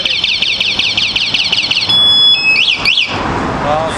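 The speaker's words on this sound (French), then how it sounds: "c'est un système d'alarme qui est en équipement standard et c'est très efficace" An electric scooter's built-in anti-theft alarm shrieks loudly and close by, rapid warbling electronic chirps giving way to a sustained tone and then falling and rising siren sweeps.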